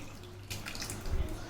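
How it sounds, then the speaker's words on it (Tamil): Water poured over bael fruit pulp and strained, giving a short splashing trickle up close, brief and moderately loud. "இன்னும் கொஞ்சம் தண்ணியை விட்டு இன்னும் கொஞ்சம் வடிகட்டிக"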